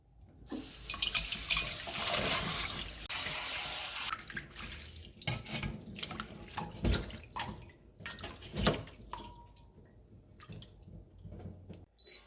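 Soybean sprouts washed by hand in water, a running-tap rush at first, then splashing, sloshing and dripping as the sprouts are swished about, close by with no voices.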